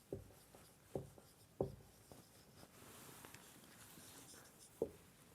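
A pen or marker writes on a board or page during a maths lesson, giving a few soft scratchy strokes with sharper taps at the start of lines, faint and close, with no talking.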